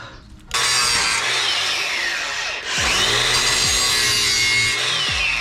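A power saw cuts for a 1990 OBS truck lowering job, a loud close grinding whine that starts sharply, dips briefly midway and resumes with shifting pitch, no talking.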